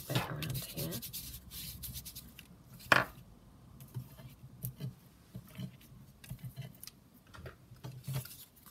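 Hands rubbing and scuffing a paper envelope to distress it for a junk journal tag, irregular dry rustling and scraping bursts close to the mic, with one sharper crinkle partway through.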